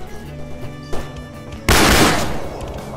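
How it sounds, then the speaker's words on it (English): Gunfire erupts in the S.T.A.L.K.E.R. Anomaly video game, a sharp single shot followed by a loud sustained burst that slowly decays, heard close and without talk. "Somebody's shooting me."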